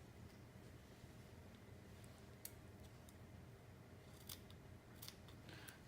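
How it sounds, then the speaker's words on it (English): Scissors clip through sewing fabric at the dot on collar pieces of a Simplicity 8218 teddy bear jacket, giving a few quiet, sharp snips, two around the middle and a cluster near the end, over faint room hiss. "Clip to the dot on both pieces."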